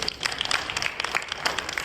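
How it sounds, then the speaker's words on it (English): Audience applause fills a hall after a performance at a Saraswati Puja celebration, a dense, steady patter of many hands clapping at moderate volume for about two seconds. "Big round of applause, please."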